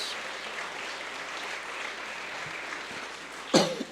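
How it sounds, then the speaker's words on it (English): An audience at a formal address by a prime minister applauds steadily at a moderate distance, a broad wash of clapping that holds even throughout, with a brief louder knock near the end. "Let's give him a round of applause."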